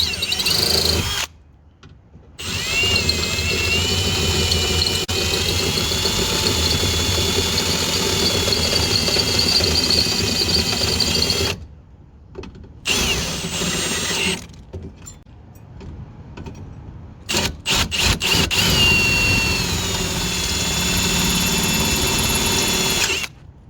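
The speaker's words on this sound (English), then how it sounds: "Alright, we're gonna drill these shits out now." A power drill whines in several long bursts, drilling out the rivets of a pickup truck's window motor, stopping and restarting with brief pauses, close and loud, with metallic rattles between runs.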